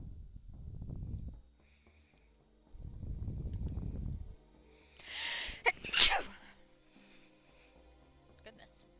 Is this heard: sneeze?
yes